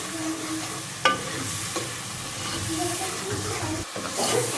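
Masala being fried for beef paye sizzles and hisses steadily in a pot, close up, with a few clanks of a spoon stirring and some faint background voices underneath.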